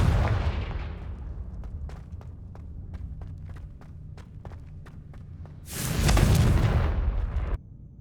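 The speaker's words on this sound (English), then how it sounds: "Confringo!" A Confringo spell explosion in the video game Hogwarts Legacy: a loud, broad blast that bursts out suddenly and roars for nearly two seconds before cutting off, preceded by faint, regular tapping footsteps.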